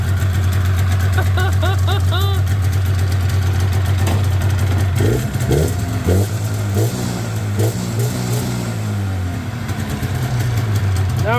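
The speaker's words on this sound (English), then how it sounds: "Need to adjust the idle a little bit, but it runs." A car engine idles after a swap from fuel injection to carburetors, a loud steady rumble with a slightly uneven beat and a few blips of revving partway through.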